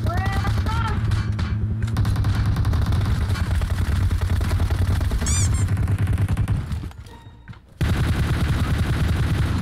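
Gunfire in the PUBG Mobile battle royale game, dense rapid bursts running nearly the whole time under excited voices, with a short quieter gap near the end before shooting resumes.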